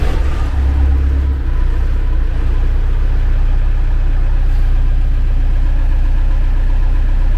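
MB Trac tractor engine turning over and settling into a steady, loud idle close by in a workshop, a low even diesel rumble that holds for the whole stretch.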